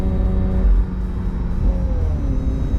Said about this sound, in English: Listen to the exhaust note change, guys, as we go back to a comfort setting.